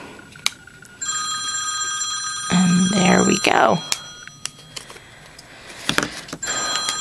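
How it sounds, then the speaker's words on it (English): A telephone rings in the background of an indoor craft session, several repeated electronic ring bursts with a louder warbling stretch in the middle, while someone speaks briefly nearby. "Don't mind my phone ringing in the background."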